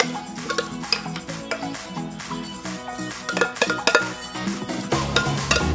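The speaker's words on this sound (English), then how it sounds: "And now the mixing part" Cabbage roll filling, thick enough for a spoon to stand in it, stirred and mashed in a bowl, with repeated scraping and clinking of a spoon against the bowl and soft squelching throughout, fairly close.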